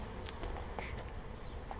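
Honeybees at an urban backyard beehive hum in a steady, faint drone, a low continuous buzz with no voices over it.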